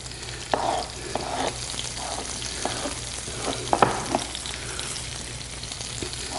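Cross-cut tomato sizzles in a frying pan with garlic, a continuous close crackle broken by scattered sharp pops and stirring scrapes, with no talking.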